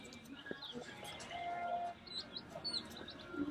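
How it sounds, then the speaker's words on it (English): Small birds chirp and tweet faintly in the distance at a Rural King store, scattered high calls under low outdoor background noise. "there's a lot of birds"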